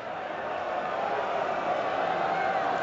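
A cricket crowd at Cardiff during an England v South Africa Twenty20 match attempting a Mexican wave, a broad distant roar of many voices building gently and holding steady.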